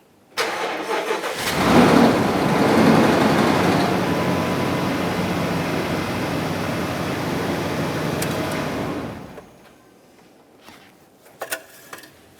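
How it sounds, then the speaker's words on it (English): A 4.7L V8 engine in a 2005-2010 Dodge Dakota truck cranks and catches, then runs loud and steady for several seconds before cutting off, leaving a quiet room with a few faint clicks. "start the engine."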